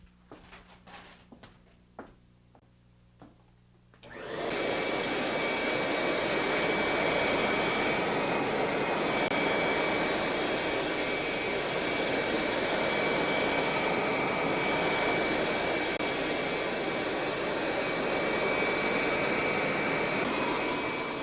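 A Kirby Generation 3 vacuum cleaner fitted with the hard floor pad switches on after a few seconds of quiet handling, then roars with a loud, steady, broadband whine that holds unchanged to the end.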